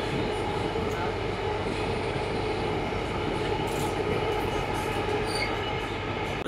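A Kolkata metro train runs along the track with a steady low rumble and rattle, and thin wheel squeals break through now and then. A faint murmur of people sits under the train noise.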